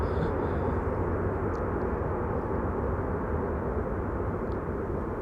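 A passing airliner's steady broadband engine roar, continuous and moderately distant, holding at an even level with no voices.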